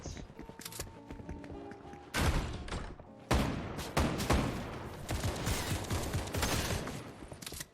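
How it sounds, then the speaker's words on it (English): Video game gunfire comes in rapid bursts and volleys of shots from about 2 s onward, mixed with thuds, with a faint talking voice earlier in the clip. "I'm getting shot at."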